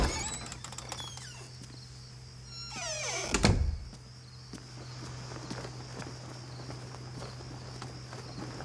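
A door creaks open in a scene from a Hindi horror comedy film, a drawn-out groaning creak ending in a heavy thud. Faint footsteps and quiet room noise follow, with no talk.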